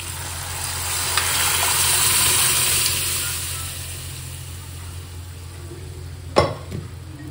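Lentils tipped into a pot of cooked tomatoes set off a steady broadband sizzle that swells and fades, followed by a short sharp clatter near the end, with no talking.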